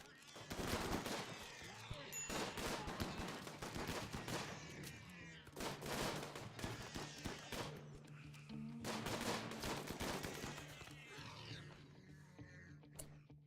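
Rapid bursts of gunfire from the colony-defense game RimWorld, several loud volleys of repeated shots separated by brief pauses, steady and close across the whole stretch.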